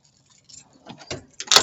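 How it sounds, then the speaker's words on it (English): A set of car keys jangles near a car door, starting quiet with small metallic clicks and ending in a sharper, close jingle. "I can't even get my fucking keys in the car"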